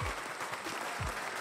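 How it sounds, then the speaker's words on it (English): An audience at a comedy encore performance by Kevin Powers claps, a soft, continuous patter of hands heard from some distance at fairly low volume. "Thanks for the claps."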